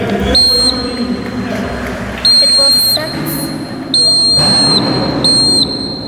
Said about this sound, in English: the buzzer will make sound like that